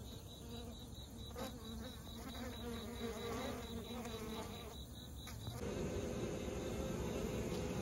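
Honeybees hum around a swarm trap during a trap-out, a steady close buzz of many insects with individual bees droning past, growing denser near the end.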